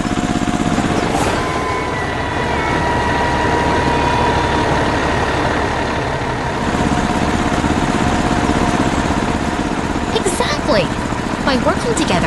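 Engines of a red tractor and a blue truck rumble steadily and loudly at a steady idle, with a low heavy drone throughout and brief lighter noises near the end.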